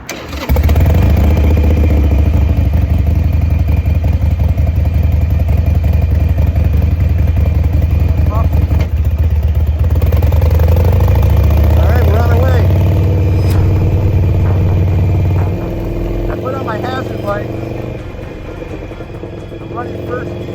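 A motorcycle engine revs and runs loudly and close by through most of the stretch, with a rough idle rumble that drops near the end while people talk over it.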